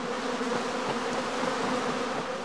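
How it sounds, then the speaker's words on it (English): A restless honey bee swarm hums loudly and steadily, a dense, continuous buzz with no pauses. "the bees continue to move about restlessly while humming loudly"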